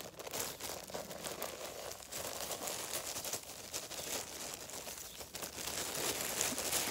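A plastic bag crinkles steadily as its contents are dumped into a container, a continuous rustling crackle close to the mic.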